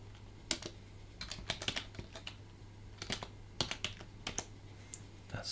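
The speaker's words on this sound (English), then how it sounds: "It's always a lot of typing, right?" Keystrokes on a computer keyboard while setting up Arch Linux, irregular bursts of sharp clicks in quick runs with short pauses, close and fairly quiet, no talking.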